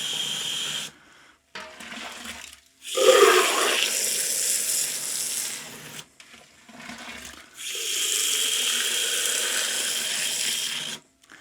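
Tap water runs into a plastic fermenter for a Coopers stout extract brew, coming in several separate pours with short pauses between them; a steady hissing gush sits close to the mic with no one talking.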